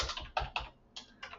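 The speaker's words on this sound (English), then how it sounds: "there's also the option here to type in the number manually" A computer keyboard is typed on to enter a phone number by hand, giving five quick, close key clicks in an uneven rhythm with no voice.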